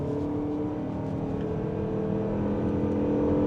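A 2025 Mazda CX-50 Hybrid Premium Plus accelerates at full throttle, giving a steady, moderately loud engine drone and whine that rises slightly in pitch, heard from inside the cabin.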